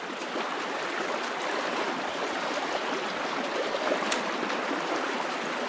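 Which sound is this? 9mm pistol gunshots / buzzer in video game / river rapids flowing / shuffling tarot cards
river rapids flowing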